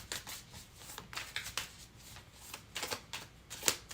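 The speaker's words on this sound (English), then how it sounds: "I spent at least 5 minutes shuffling these cards since they were newer." New tarot cards riffle and slap together in quick, soft bursts of shuffling, close and quiet, with a brief pause between passes and no talking.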